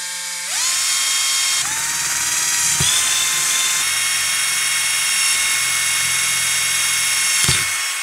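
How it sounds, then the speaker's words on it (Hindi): A small high-pitched drill whines steadily while boring holes in a plastic box for a homemade battery charging module, with a few brief clicks and bumps, loud and close, with no voices. "तो चलो इसे होल कर लेते हैं"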